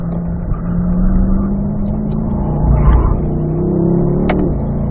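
A Corvette accelerates on a race track, its engine a loud, close, steady roar with rising pitch as it pulls through the gears, heard from inside the car with no talking.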